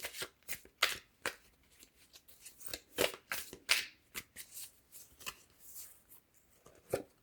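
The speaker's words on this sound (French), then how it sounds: "On va commencer par une carte du tarot de la Santa Muerte." Tarot cards of a Santa Muerte deck being shuffled by hand, a series of crisp riffling and sliding bursts in an uneven rhythm, close and clear with no talking.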